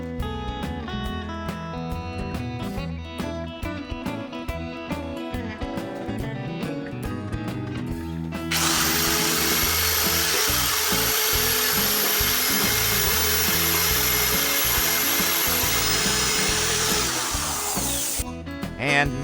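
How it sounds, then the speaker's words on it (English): A power drill whirs continuously for about ten seconds while drilling into a wall to mount a shower base, amid clattering background noise, loud and close, then stops abruptly. "Attach the base on the wall using electric drill."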